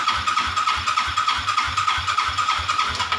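Motorcycle starter cranking the engine, a steady rapid mechanical churning pulse with a whining tone, loud and close, continuing without pause throughout.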